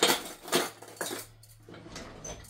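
A bottle gourd (upo) being peeled with a hand peeler in a home kitchen, giving a few scraping strokes about half a second apart, close and moderately loud, with no talk.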